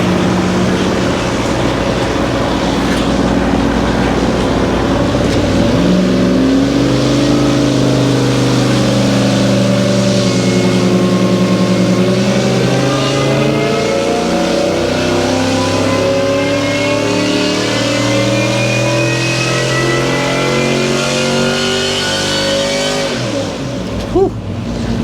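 A loud supercharged engine on a dyno, supercharger whine audible, revs up steadily under full load, pitch climbing for a long sustained pull before cutting off at the end.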